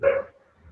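A single sharp dog bark sounds from behind a guest on a call, one short burst at moderate distance that fades into near silence.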